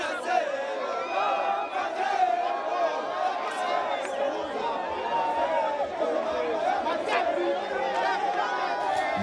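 A large crowd at a trophy presentation in Goma celebrates the DR Congo Leopards' CHAN title with sustained loud shouting, cheering and dense chatter that never lets up, voices overlapping throughout.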